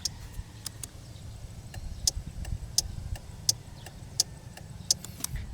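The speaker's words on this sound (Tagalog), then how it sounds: "pakinggan nyo yung tunog ng relay" Steady, evenly spaced clicking of a Suzuki Burgman 150 scooter's turn signal relay, crisp ticks about every second over a low engine hum.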